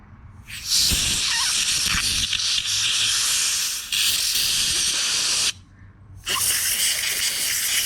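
Compressed air hisses loudly through a clogged windshield washer sprayer nozzle in three long close bursts separated by short gaps, with faint handling knocks near the start.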